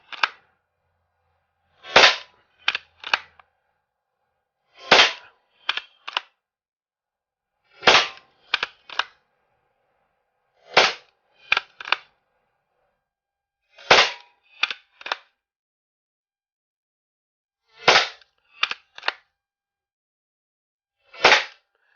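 Sharp pops from a freshly resealed Hahn Super Repeater lever-action CO2 BB gun come in quick bursts of two to four shots, separated by pauses, crisp and fairly close with silence between.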